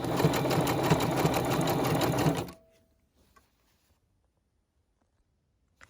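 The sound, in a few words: sewing machine stitching swimsuit binding with zigzag stitch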